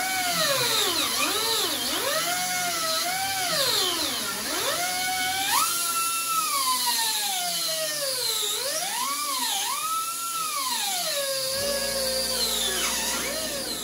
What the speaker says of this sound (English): the holes are ground down. Now the bolts can go through